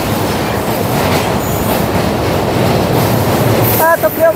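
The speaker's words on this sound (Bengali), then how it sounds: "ট্রেনটি কিন্তু হার্ডিং ব্রিজের উপর দিয়ে যাচ্ছে" Heard from on board, a train crosses the Hardinge railway bridge, Bangladesh's largest rail bridge, with a loud continuous rumble and rattle of wheels on steel, and a voice cuts in briefly at the end.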